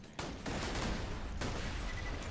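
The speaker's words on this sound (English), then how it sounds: "This is probably our best ranged shotgun, so that's what we'll do." Shotgun fire in Borderlands 2, a sharp blast at the start and a second crack around the middle, with dense gunfire-like noise sustained throughout at a fairly loud level.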